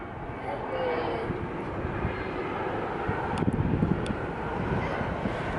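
An airplane passes overhead in Silicon Valley, a broad, steady engine roar that slowly swells and fades over several seconds, heard from a high vantage point with some wind noise.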